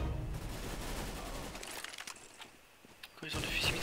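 Shotgun blasts and other gunfire rattle in CS:GO as a dense burst up front, then sparse, quieter shots and movement, then another loud burst at the end; a voice is also present.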